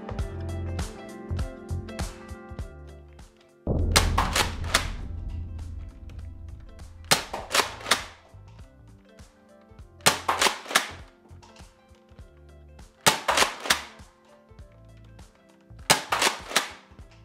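Nerf Accustrike Mega darts fired through a chronograph, a series of about five sharp blaster shots spaced a few seconds apart, close and crisp, each a brief snap with faint clicking between shots.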